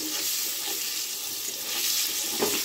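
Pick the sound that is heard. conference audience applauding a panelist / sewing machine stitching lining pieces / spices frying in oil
spices frying in oil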